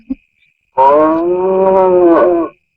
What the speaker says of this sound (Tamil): அந்த பக்கத்து வீட்டு பசுமாடு அப்ப பிடிச்ச ஒரு மாதிரியா கத்திட்டு இருக்கு